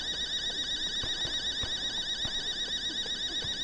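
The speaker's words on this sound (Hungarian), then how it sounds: "Hát az is elkezdett riasztani." Electronic alarm blaring inside the video game The Day Before, a steady high-pitched tone that keeps pulsing without a break, loud and close, with faint low thumps beneath it.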